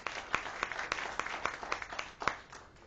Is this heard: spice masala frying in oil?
no